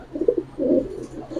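Fancy pigeons, including silver and wing-patterned breeds, give soft, rolling coos in two or three close phrases within a brief moment, with no talking.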